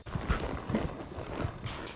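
A horse moving in a cutting competition, with a rider working to separate a calf from the herd, its hooves giving a steady, close run of dull clip-clop thuds that last the full two seconds with no talk.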